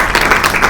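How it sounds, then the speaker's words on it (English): A brief burst of audience applause at an international arbitration conference, close and loud clapping from many hands with no talk over it. "if we could all clap for him"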